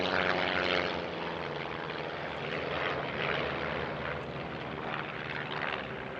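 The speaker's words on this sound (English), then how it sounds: "a tribute to JeanMarie Sajay by 6 aircraft from the flying club he once presided over" Propeller aircraft from a flying club drone overhead in a tribute formation of six planes at an airshow, a continuous buzzing engine roar that swells and eases slightly over several seconds.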